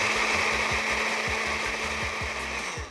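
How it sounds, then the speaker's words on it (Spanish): A blender whirring steadily as it grinds crepe batter ingredients with flour and chocolate, a continuous close motor drone with a faint repeating thump from the jar, no speech. "Muy bien, volvemos a moler."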